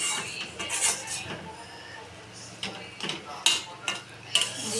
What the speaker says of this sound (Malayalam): അപ്പം നമ്മൾ ഇതിനെ നല്ലോണം ഇളക്കി കൊടുക്കുകയാണ്